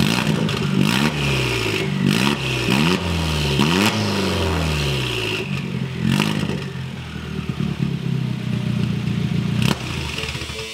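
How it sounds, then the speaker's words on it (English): A small car's engine with no muffler cranks, fires and revs hard in loud, raspy bursts, several quick throttle blips rising and falling before settling into a rough, close idle. "with the exhaust like this, I'm gonna fire it up. I wanna see what it sounds like."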